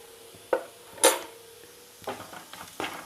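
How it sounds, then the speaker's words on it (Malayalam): A spoon stirs spices in a pan for spicy egg fried rice, producing a few sharp metallic clinks and scrapes spread over three seconds, fairly quiet against a faint background hiss. "ഇത് നമുക്ക് നന്നായിട്ടൊന്ന് ഇളക്കി കൊടുക്കാം."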